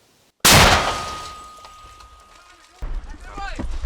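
A sharp, loud mortar blast from a Ukrainian mortar crew near the Sumy border erupts suddenly after a shouted firing warning and rings out in a long decaying boom, followed by voices and movement nearby.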